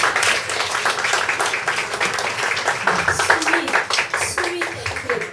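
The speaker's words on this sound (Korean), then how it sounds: "다시 한 번 더 뜨거운 박수 부탁드리겠습니다." An audience at a poet's book concert gives warm applause, crisp close claps mixed with a voice speaking over them.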